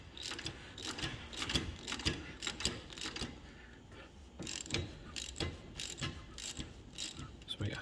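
Bolts on the front wheel bearing of a 1997 Jeep Grand Cherokee 4x4 are run down with a ratchet, giving rapid, fairly quiet clicking bursts that repeat steadily through the clip.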